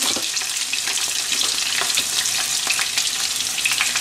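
Chopped onions with green chilies frying in oil in a kadai for a vegetable curry, a steady close sizzle with scraping stirring strokes throughout, no talking.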